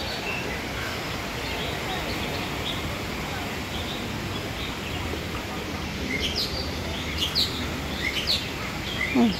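Many birds chirp outdoors from the treetops, with sharp high calls getting more frequent toward the end over a steady outdoor hiss and rustle; no one speaks.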